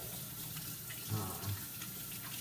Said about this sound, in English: let's rinse my hands off now